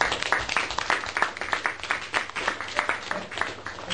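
A room of people at a speaking club meeting applauds its table topics speakers with a brisk patter of individual claps, fairly close and lively, unbroken for several seconds without talk.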